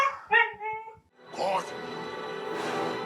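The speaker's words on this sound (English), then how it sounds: "The wargs are going at them, guys. You can hear them." Wargs growl and snarl in The Hobbit: An Unexpected Journey, heard as harsh bursts of beastly vocal noise with a dense rumbling scuffle building through the second half, rising in loudness, with a voice over the start.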